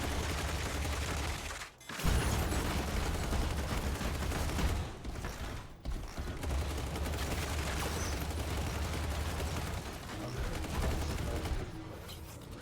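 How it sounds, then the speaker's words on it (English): Heavy, continuous gunfire in the mech shooter Hawken Reborn, a dense stream of shots and impacts that runs almost without pause, broken by two brief dips. "Oh, I'm getting shot at."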